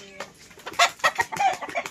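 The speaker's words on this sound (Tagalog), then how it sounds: "Ayan na, nag-akyata na ang manok kasi gabi na raw." Several chickens roosting in a tree at night cluck and squawk in short irregular bursts nearby, overlapping one another with faint background noise.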